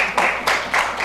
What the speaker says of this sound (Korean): 우리 한번 박수 쳐드리겠습니다